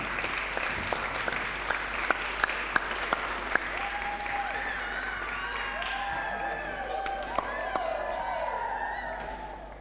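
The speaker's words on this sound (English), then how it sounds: "Round of applause for Simon" An audience claps for a performer about to play a solo, with dense steady applause and a few louder individual claps up front, thinning out as a voice and faint tonal sounds come through toward the end.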